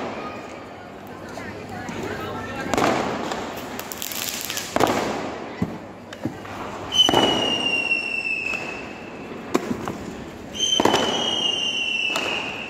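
Diwali skyrockets launch and burst one after another, giving sharp cracks, whooshing whistles and crackling pops at middle distance, with people talking and calling out throughout.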